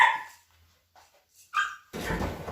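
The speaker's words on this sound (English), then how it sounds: "I'm going to let the puppy in." A puppy gives a few short, high yips and barks near the door as it is let inside, separated by quiet gaps, followed by a burst of rustling noise.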